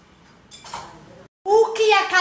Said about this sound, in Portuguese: Do nada foi enxugar a louça.